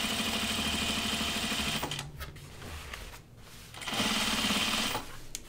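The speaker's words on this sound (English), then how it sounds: "now I'm going to do my double needle top stitch" A sewing machine running a double-needle topstitch across the front of a pair of jeans, a close rapid mechanical hum in two bursts with a short pause between them.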